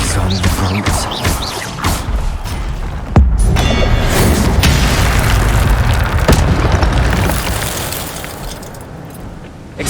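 An Incendio fire spell blast in Hogwarts Legacy lands as a sudden heavy boom partway through, over a dense, rumbling backdrop of continuous game effects and ambience.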